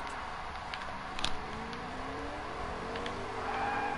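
A car engine in a video game hums and shifts pitch at a moderate distance, with faint clicks and a rising whine near the end.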